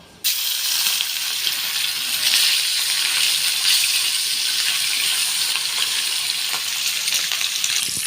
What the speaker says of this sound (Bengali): অন্য যে কাঁচা মাছগুলো আছে এগুলো ভেজে নেব